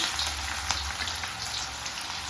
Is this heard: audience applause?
no